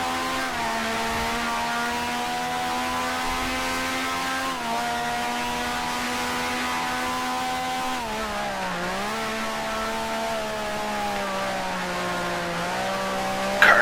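Race car engine in the Grand Prix Legends racing game at the 1965 French Grand Prix on the Charade circuit, a steady loud drone with gliding pitch as the tires strain for grip, continuous and close throughout.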